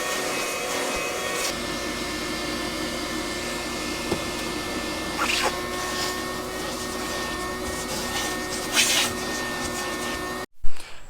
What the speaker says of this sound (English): Let's get that vacuum cleaner and suck her clean.